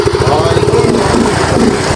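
A Honda Mio i 125 scooter engine catches and runs, a loud close mid-pitched putter idling steadily throughout.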